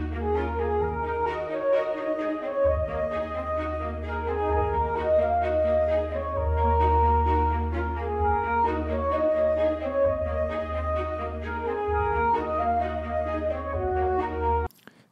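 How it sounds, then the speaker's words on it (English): An ensemble melody from the AIVA music engine with auto-staccato disabled plays with smoother, more connected notes over a continuous deep bass, holding steady until it cuts off at the end. "When disabled, auto-staccato will sound like this."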